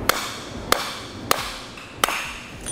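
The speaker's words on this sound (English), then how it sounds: "Then it's just a matter of driving it in with your hammer." A hammer drives a bearing race into a trailer hub, giving four sharp metallic strikes spaced about every 0.6 seconds, close and clear over a faint background hiss.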